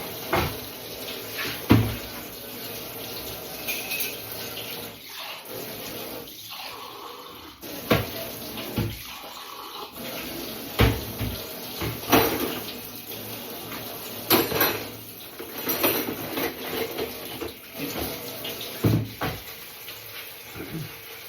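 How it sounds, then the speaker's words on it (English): A kitchen tap runs steadily as water is left flowing until it turns hot, a continuous close rush broken by intermittent knocks and clatters of handling nearby. "run the water off"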